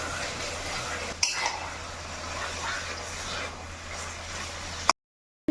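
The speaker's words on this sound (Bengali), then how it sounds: "একটু ভালো করে নাড়াচাড়া করে নেব।" Pabda fish pieces stirred in a pan of curry for a Bengali pabda jhal, with steady close scraping and clinking of a utensil against the pan over a low background hum, ending abruptly.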